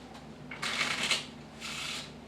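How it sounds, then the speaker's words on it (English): Playing cards riffled in a quick ripple shuffle during a card trick, heard as two close, crisp bursts of rapid fluttering clicks with a short pause between them. "So I'm going to give them a quick shuffle like so."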